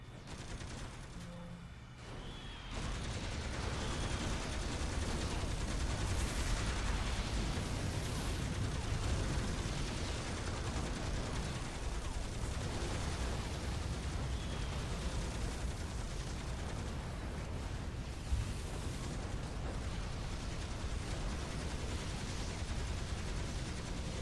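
Sustained gunfire and explosions from the video game City of Heroes, a dense, continuous barrage of shots and blasts that holds steady and loud for most of the stretch after a quieter opening.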